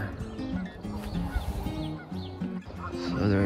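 Geese and ducks honk and quack repeatedly in overlapping bursts at a campground near Carseland, Alberta, moderately close on a morning with faint background ambience.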